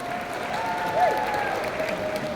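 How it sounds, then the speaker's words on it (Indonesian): A hall audience of new university students applauds for Mas Danang at a religious study gathering, a steady wash of clapping throughout at moderate level, with faint tonal sounds over it. "Teman-teman semuanya tepuk tangan untuk Mas Danang."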